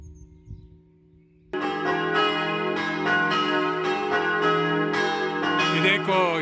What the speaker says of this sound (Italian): ecco il suono melodioso delle campane che ci invitano alla preghiera